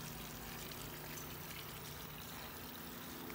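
Water trickles steadily from a small dog-shaped garden fountain in a backyard, a faint, continuous splashing wash with no voices over it.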